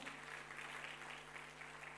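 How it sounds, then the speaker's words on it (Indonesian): A church congregation claps in a steady, moderately distant wash of applause, faint and even, with a low hum running beneath it. "Tepuk tangan yang meriah untuk kemuliaan Tuhan."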